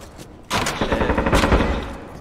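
Rapid automatic gunfire rips through a wall in the tactical shooter Due Process, a loud close burst of overlapping shots lasting over a second, with no talk.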